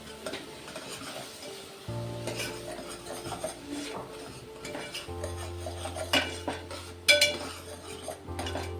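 Tomatoes with salt and spices for Sindhi dal pakwan cook in a pan, a steady close sizzle under repeated scraping and clinking of a utensil stirring against the metal.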